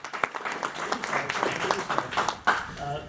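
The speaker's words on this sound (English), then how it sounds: "Please, give a warm round of applause for Bruce Wechtenhiser." Warm audience applause at a Spider-Man pop culture conference, many hands clapping densely and steadily at close range for a few seconds.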